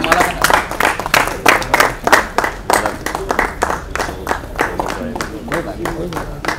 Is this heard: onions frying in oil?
no